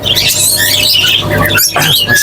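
Many small caged birds, including Java sparrows, chirp and twitter at a bird shop in a dense, loud, continuous chorus close by.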